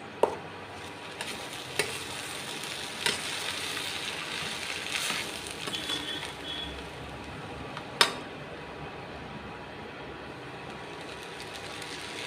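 A spoon stirs tomato rice in a hot pan, making a few sharp scrapes and knocks spread across a low, steady background hiss, with no talking.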